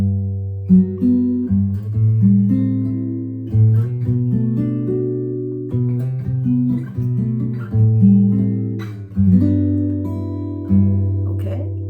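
An easy chord progression played on guitar, with clear plucked and strummed chords changing every second or so in a steady, unhurried rhythm, close and alone with no talking.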